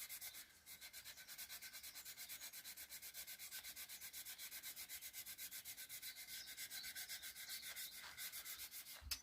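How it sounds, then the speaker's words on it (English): Sandpaper rubs against an ash bowl blank spinning on a lathe at about 200 RPM, a faint steady rasping with a fast, even rhythmic pulse throughout. "what I've done, I sanded up to 400 with regular sandpaper"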